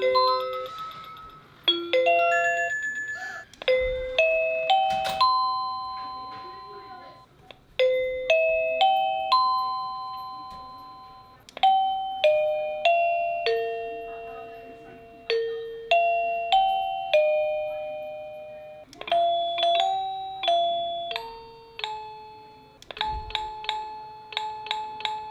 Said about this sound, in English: So just by pressing, it will change the chime, and the next time the doorbell is rang, you will hear that new chime